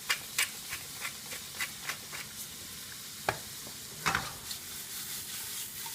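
Shrimp sizzle in a frying pan with salt as they are stirred and tossed, a steady close hiss broken by scattered clinks and scraping taps, no speech.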